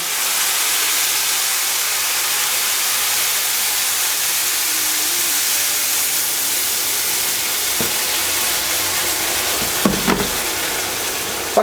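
Hot water pours into a pot of rice being made into pilaf, a loud steady hissing rush that sounds like steam and spray and runs without a break, with a couple of clunks near the end.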